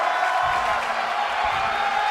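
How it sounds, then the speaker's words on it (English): A wrestling crowd at a live match cheers in a steady, dense roar that holds loud and even throughout, with no single voice standing out. "The crowd is excited, is fired up."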